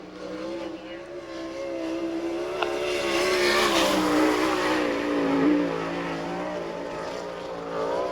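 A sprint car from the 1999 All Star Circuit of Champions, number 17, runs a timed lap on the dirt speedway at Bechtelsville, Pennsylvania. Its engine gives a steady, loud drone that swells and eases through the lap, with no talk over it.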